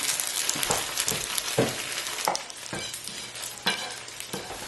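Tofu pieces fry in a pan during a stir-fry, giving a steady close sizzle broken by several sharp scraping and stirring strokes. No voices.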